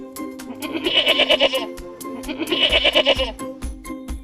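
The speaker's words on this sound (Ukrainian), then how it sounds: "Козел каже мє." Two drawn-out goat bleats, each about a second long and fairly loud and close, set apart by a short pause, with faint background rustle and no talking.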